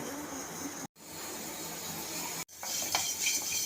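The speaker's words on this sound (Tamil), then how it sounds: "எண்ணெய் விடாமல் வறுக்கணும்." Garlic and red chillies dry-roast in a pan without oil for a garlic pickle. A soft continuous rustling hiss is broken by two brief silent gaps, followed by a few light stirring scrapes and clinks, close up with no talk.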